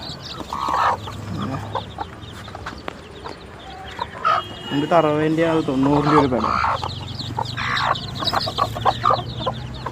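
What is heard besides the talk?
hens and chicks clucking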